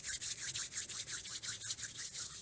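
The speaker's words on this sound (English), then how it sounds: "Now let's rub the top of one hand, rub the top of the other hand." Hands rubbing together briskly during a qi gong exercise, a soft rhythmic swishing at about five strokes per second, close but quiet, with no talking.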